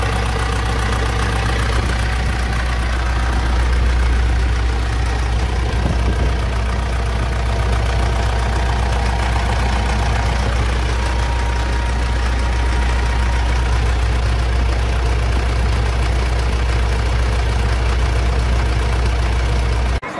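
A Mitsubishi Pajero Dakar engine idles steadily after a transmission oil change and decarbonization service, with a loud, constant low rumble and a slight knocking texture throughout, close to the microphone.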